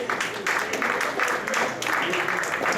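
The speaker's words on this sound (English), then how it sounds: "Give him a round of applause." Applause from an audience at a boxing press conference for the IBF Lightweight Championship bout, steady broadband clapping filling the room throughout with a few louder swells and a faint voice underneath.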